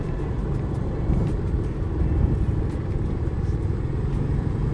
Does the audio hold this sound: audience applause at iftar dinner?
no